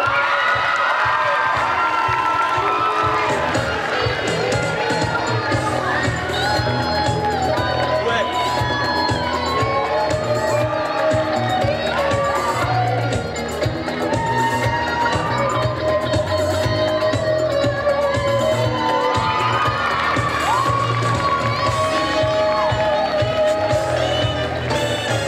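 A large crowd cheers, shouts and claps for a One Piece cosplay group parading at the Mulhouse Japan Manga Wave convention, a loud, continuous roar with whoops and excited voices rising and falling throughout.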